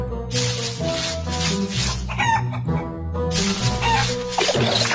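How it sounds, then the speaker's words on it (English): A cartoon chicken clucks from inside a haystack in a PAW Patrol video game, the clucking and fowl calls sounding over a steady, busy game music bed. "The haystack is moving! And clucking!"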